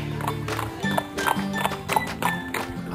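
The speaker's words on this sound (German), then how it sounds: "Lucien sattelt im Reitercamp sein Pferd" Hooves clop irregularly on the ground as a horse shifts about nearby while being saddled at a riding camp, with a few small metallic clinks and background chatter.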